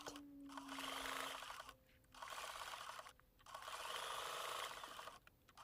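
A domestic sewing machine stitches raw edge appliqué on quilt fabric, a brown piece being worked around, in three steady runs of rapid close whirring, each broken by a short pause as the needle stops and the fabric is turned.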